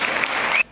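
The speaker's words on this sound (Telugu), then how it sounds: "చప్పట్లు వీళ్ళందరి కోసం." A brief burst of audience applause at an award ceremony, a dense patter of clapping that stops abruptly.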